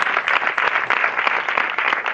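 A church congregation applauds in steady, dense clapping for a couple of seconds, close and fairly loud, with no talk over it.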